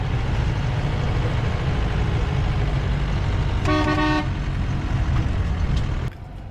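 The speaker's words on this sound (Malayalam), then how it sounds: "നമ്മുടെ പഴയ അംബാസഡറിൻ്റെ എല്ലാം ഹോൺ പോലത്തെ ഒരു ഹോണാണ്." A Land Rover's horn, similar to an old Ambassador car horn, gives one short honk of about half a second against steady engine and road noise on an off-road drive to Sandakphu.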